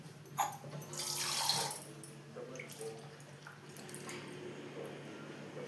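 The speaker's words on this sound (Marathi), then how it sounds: "आपली चुलीला आपण मस्त पाण्याचा हात मारणार आहे" Water is splashed by hand onto a clay cooking stove plastered with mud and cow dung, giving a brief rushing splash near the start followed by faint trickles and drips, with no voices.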